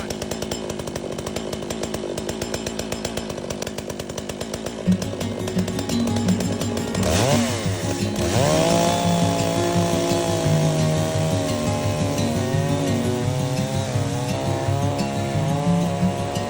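Chainsaw engine on a Woodland Mills HM126 sawmill held at wide-open throttle, a loud close continuous whine that shifts pitch partway through as the cut loads it.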